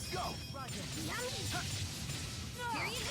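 Repeated high, chirping cries of peepit creatures in Tales of Xillia, each a quick rising-and-falling squeak, come in bursts over a steady background of game noise.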